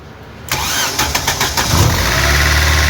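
A Daewoo Nexia's engine cranks and catches after its throttle body is cleaned, a close, loud start with a few sputtering pulses before settling into a steady idle.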